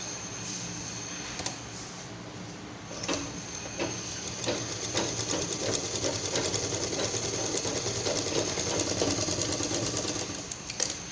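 A sewing machine runs continuously, stitching cloth for a homemade purse with a steady close mechanical whir and rhythmic needle ticking that grows slightly louder and denser partway through.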